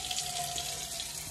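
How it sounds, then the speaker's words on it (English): Tap water running steadily from a faucet into a dog's water bowl, a soft continuous splashing hiss at close range with no talking. "Need to fill up my dog's water because it is looking nasty."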